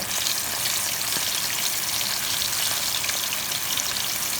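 Seasoned fish frying in hot oil makes a loud, continuous crackling sizzle that stays steady throughout.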